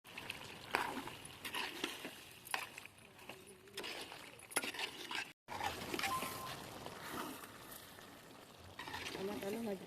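Tomatoes sizzle and fry in a pan for a spicy chicken curry, with steady crackling and intermittent scraping stirs throughout, recorded faintly at a distance.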